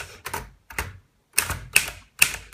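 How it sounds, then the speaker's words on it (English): Close, loud bursts of typing on a Mercedes Selekta manual typewriter in very good condition, clusters of sharp key strikes separated by short pauses. "So I will type for you."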